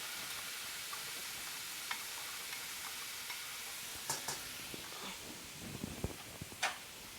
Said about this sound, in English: put just a little bit of olive oil down in the bottom of my pot. And we'll go ahead and put our vegetables in. Get that sauteed up.